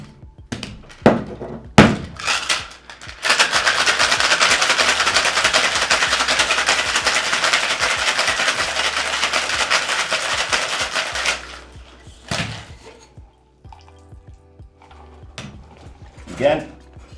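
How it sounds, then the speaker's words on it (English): Fresh ice rattles hard and fast in a cocktail shaker in a continuous burst of about eight seconds. Clinks and knocks come before and after, and there is no talk during the shaking. "we got fresh ice for shaking"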